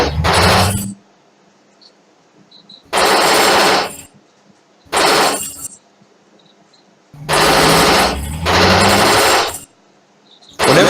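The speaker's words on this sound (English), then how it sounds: "I'm gonna use the machine gun Let the gun do the work today." Machine gun fire in a video game, four or five loud sustained bursts of about a second each, separated by short silent gaps.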